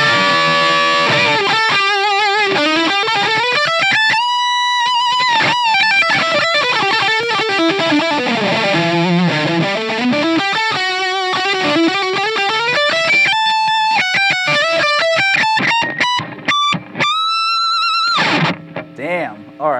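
Distorted riffing on a left-handed Ibanez RG550 electric guitar in Road Flare Red, played through the bridge pickup, with loud, sustained, screaming high notes and fast runs that fill the whole stretch before cutting off near the end.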